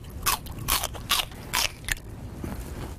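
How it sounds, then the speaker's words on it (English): A person chews crunchy food loudly with an open mouth, very close. About five sharp, wet crunching bites come in a fairly regular rhythm over quiet background noise. "people who chew loudly or eat with their mouths open."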